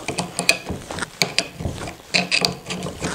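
Wrench ratcheting as it tightens the steering bar on a Vespa P200 E scooter, giving a run of close, uneven metallic clicks and clanks with short pauses and no talk.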